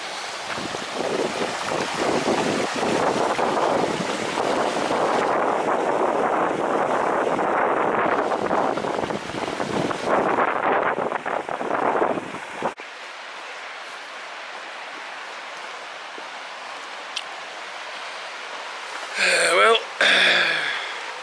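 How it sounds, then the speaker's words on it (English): A loud, steady roar of rushing river rapids among waterfalls on the Pennine Way, buffeted by gusty wind noise, then dropping to a quieter, distant rush. "Loads of rapids everywhere, so you can hear the roar."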